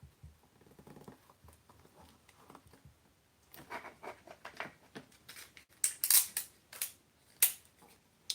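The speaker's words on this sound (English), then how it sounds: "Let me tape this down." Sticky tape is pulled and pressed down while wrapping a gift basket: faint rustles at first, then a cluster of sharp crackling rips and taps, close and fairly loud, with no talk.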